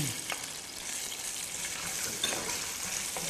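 Ground meat for tocino fried rice stir-fries in a pan, a steady bright sizzle with occasional scraping strokes of the spatula, moderately quiet and without voices.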